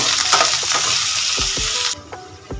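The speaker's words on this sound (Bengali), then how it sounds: "হালকা ভেজে নেব" Soya chaap fries in hot oil with a loud, dense sizzling hiss and a few spatula knocks, then the sizzle cuts off sharply, leaving quieter scraping.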